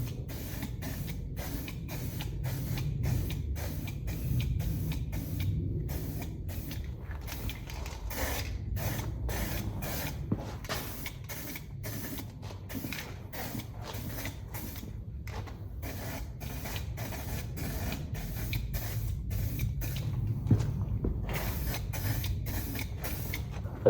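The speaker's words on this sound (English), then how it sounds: "we will put a light coat of primer onto the rims." Aerosol spray can laying a light coat of primer onto wheel rims with taped-over valve stems, heard as a long run of short hissing bursts in steady rhythm over a low background hum.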